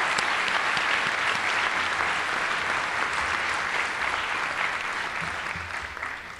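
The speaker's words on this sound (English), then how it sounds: "We need to give another huge round of applause to Tim Draper." An audience at the SAMCEDA 2013 Awards of Excellence gives Tim Draper a long, dense round of applause that holds steady, then gradually thins toward the end.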